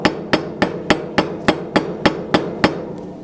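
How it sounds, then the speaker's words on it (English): A metal ring is struck too hard during forging, with about ten sharp, evenly spaced hammer blows ringing out loud and close, each leaving a brief metallic decay. "If you hear something like this, that means that you're hammering it too hard and you're going to lose control on that."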